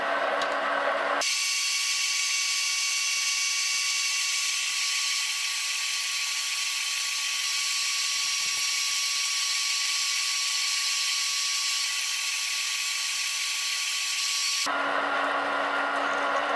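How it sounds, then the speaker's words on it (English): A steady high-pitched grinding whine of a 15mm bore drill bit cutting metal on a lathe runs continuously for over ten seconds, starting and stopping abruptly amid machine hum. "It's a 15mm bore drill bit I have there."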